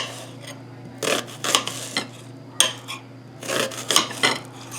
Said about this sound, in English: Half of the onion and you can just cut it this way.